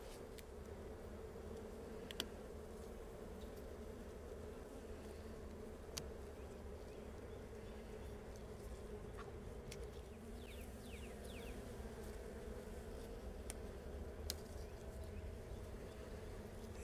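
Honeybees buzz continuously in an open hive, a steady, faint, close hum with a few brief sharper clicks and no speech.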